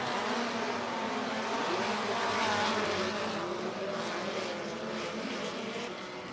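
Midget race cars of a USAC Midwest Thunder heat race roaring around Kokomo Speedway, a steady loud engine drone from the field at a distance without a break, holding level before easing slightly at the end.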